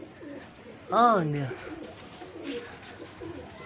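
Pigeons at a rooftop loft in Faisalabad give one prominent nearby coo, followed by quieter murmuring coos, while someone speaks briefly in the background.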